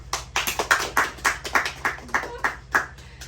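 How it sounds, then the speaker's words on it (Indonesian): A small audience claps during a health talk on gastritis, a brief burst of scattered hand claps, close and fairly loud, lasting a few seconds before fading. "Berikan aplaus dulu"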